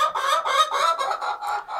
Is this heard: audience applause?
no